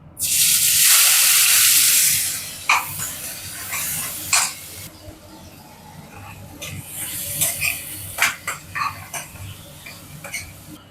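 Chopped large onions tossed into hot oil in a pan, giving a loud burst of sizzling at first that eases into a steady crackle with occasional stirring scrapes and clinks.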